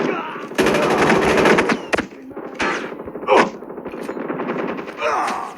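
Video game gunfire, rapid automatic bursts and sharp single shots in loud clusters, broken by brief gaps and a heavier thump, with a voice calling out between volleys.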